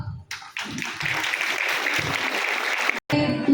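An audience applauds steadily for about three seconds after a Bible skit at a parish gathering, with a brief pause near the end before the clapping resumes.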